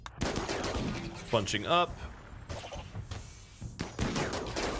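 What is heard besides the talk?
gunfire in the video game RimWorld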